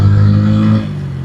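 Bajaj Pulsar N160 motorcycle accelerating in low gear, a loud close engine drone that holds steady, then drops off sharply partway through as the revs fall.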